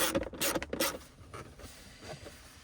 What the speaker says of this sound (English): And then we're gonna put in these 2 7mm screws.